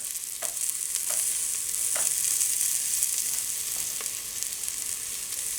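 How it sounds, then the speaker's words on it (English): Loud, steady sizzling of rice frying hard in a hot pan, with a few faint clinks of a utensil against the pan. "that aggressive sort of frying"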